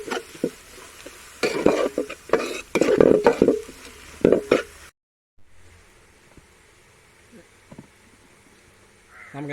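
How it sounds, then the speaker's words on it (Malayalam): Bone curry being stirred in a pan, with scraping strokes and a steady sizzle for about five seconds, then a quieter stretch of soft sizzling with an occasional clink. "ചെറുതായിട്ട് ഇളക്കി കൊടുക്കാം."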